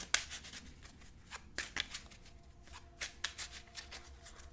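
A tarot deck is shuffled in a few quick riffle bursts, crisp and close, with brief pauses between them and no talking.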